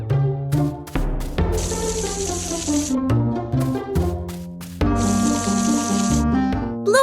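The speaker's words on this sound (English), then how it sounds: "Bluey prepares to water the plants in the garden." A cartoon watering can pours water onto garden plants, giving a bright, steady trickling splash in two long bursts, up close and loud, broken up by short plinking musical notes and with no talk.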